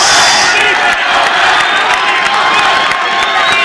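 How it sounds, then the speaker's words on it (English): A college basketball crowd, Eastern Oregon University at College of Idaho, roars and cheers steadily in an indoor gym, with some clapping and whoops, while a commentator talks over the noise. "And the crowd starts to energize."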